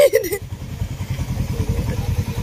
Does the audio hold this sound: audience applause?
no